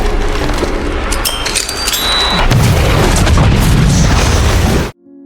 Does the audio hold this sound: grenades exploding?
yes